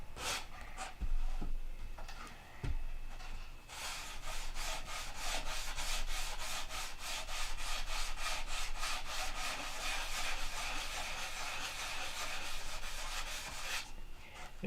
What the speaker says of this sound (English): I have to hit that with the rotary. With the Dremel.